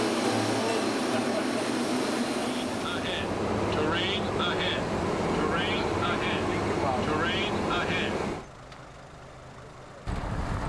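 Steady broadband roar of a passenger airplane heard from inside the cabin, a constant engine drone with a low hum under faint voices, cutting out near the end.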